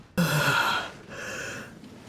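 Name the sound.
character yawning in Genshin Impact video game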